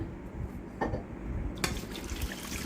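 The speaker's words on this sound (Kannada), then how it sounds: "ಒಂದು ಸ್ವಲ್ಪ ನೀರು ಹಾಕ್ಕೊಳ್ಳಿ" Water splashes and trickles into a bowl of chicken with salt and turmeric in short bursts, soft and close, with no talking.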